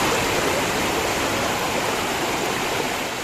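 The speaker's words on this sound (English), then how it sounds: "Record rainfall meant unprecedented flooding on the streets of Chennai." Floodwater rushing through city streets in Chennai after torrential record rainfall, a steady broadband roar of moving water sustained loudly and evenly throughout, with no voices.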